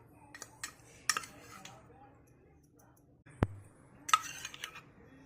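A spoon scrapes and clinks against a bowl as chicken marinade for tandoori chicken is mixed, giving sparse irregular metallic taps and one sharp knock, quiet and close, with faint low speech in the background.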